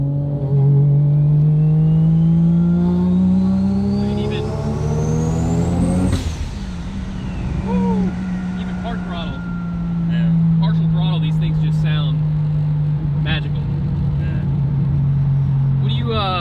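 A three-rotor Mazda RX-7 rotary engine with a 75 mm turbo revs up to a high, rising whine, then settles back into a steady, droning idle close by.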